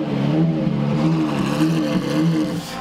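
A Maserati MC12 supercar engine on the Paul Ricard race circuit gives a sustained mid-pitched roar with slight rising and falling swells, heard at moderate distance with no voices.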